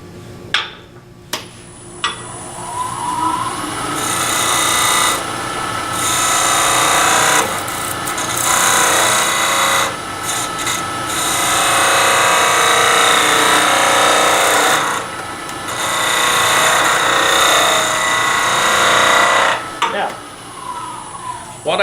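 A skew chisel slices an end cut across the end grain of wood spinning on a lathe, giving a steady scraping hiss with short pauses between passes and a few sharp knocks at the start and end.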